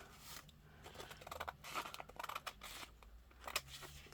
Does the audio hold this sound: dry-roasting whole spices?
no